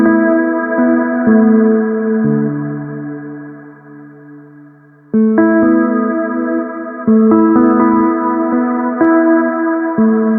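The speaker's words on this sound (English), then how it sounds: "I used the chill guitar preset from Flex, which comes standard with FL Studio if you get the producer edition." A synthetic guitar line from the chill guitar preset of the Flex synth in FL Studio, with sustained, echoing plucked notes in a mellow lo-fi melody that dips and swells without any talking.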